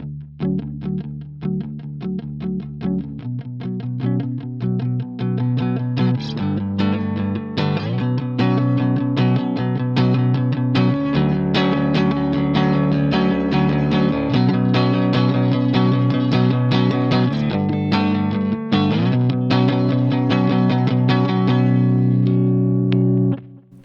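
A Shergold Provocateur SP02SD electric guitar played with a fairly clean neck-pickup tone, strummed chords and picked notes ringing with a touch of effects, steady and continuous.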